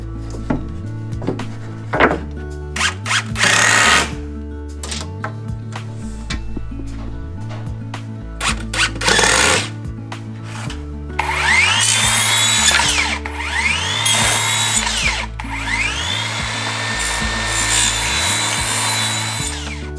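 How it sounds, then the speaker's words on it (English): A power driver sinks screws through a 4 cm square wooden strip into roof rafters, with repeated whirring bursts and motor pitch sweeps, interspersed with clicks and knocks of handling wood, close and loud, with no speech. "I'll screw the 4 cm square Nobuchi to the bottom edge of the rafters to make the foundation."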